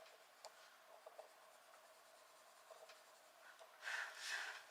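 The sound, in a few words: coloured pencil shading on paper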